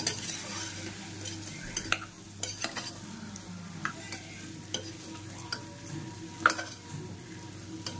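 A spoon stirs chickpeas and potato in a spiced masala in a home-kitchen pan, giving soft scrapes and occasional clinks over a faint, steady sizzle with no talking.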